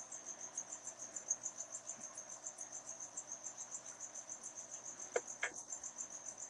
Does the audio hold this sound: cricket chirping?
yes